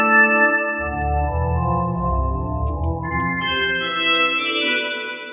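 Sustained synthesized organ chords from LMMS's Organic synth with a reverberant wash, a low droning layer entering and higher notes joining near the end.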